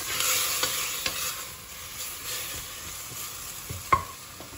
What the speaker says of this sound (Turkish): Etimi de burada kavuracağım.